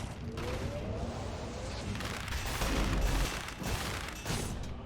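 Turrets in the video game Dead Cells fire rapid overlapping volleys of shots and mechanical clatter, loud and dense throughout, with a couple of heavier surges.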